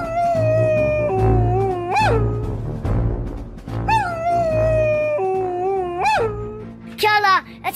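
Several drawn-out howls rise and fall at night, loud and close, in overlapping wavering tones with short pauses between them; the harmonic, vocal quality suggests a person or people may be imitating wolves.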